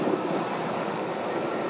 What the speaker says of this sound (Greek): αυτή τη στιγμή έρχεται και ένα ελικόπτερο Έριξον